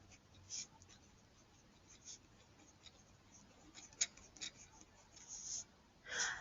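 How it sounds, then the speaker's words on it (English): Pen or pencil writing numbers by hand for a decimal division problem, producing soft, close scratching strokes in short bursts with small pauses and faint taps, and no speech. "I'm going to write that here."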